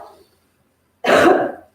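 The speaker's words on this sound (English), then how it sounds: "Cough." A single sharp, loud cough bursts out after a short silence, preceded by a faint breath, during a morning yoga session.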